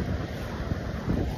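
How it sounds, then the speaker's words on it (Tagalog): Sea waves and steady wind at a seaside park, a continuous broadband wash with microphone buffeting, fairly loud and without any talking. "Ganyan po ang dagat natin."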